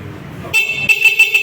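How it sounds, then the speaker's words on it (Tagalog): A EuroMotor Samurai 155i motorcycle horn blares in a steady, bright tone, sounding twice with a brief break between, loud and close over low road rumble. "Okay, solid po ang kanyang busina."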